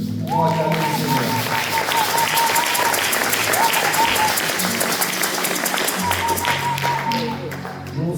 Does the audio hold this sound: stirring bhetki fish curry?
no